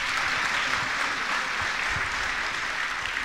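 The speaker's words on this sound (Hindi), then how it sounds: "सब ताली बजा करके स्वीकार कीजिए।" A gathering at a Jain religious discourse bursts into steady, dense clapping, loud and sustained throughout with no voices over it.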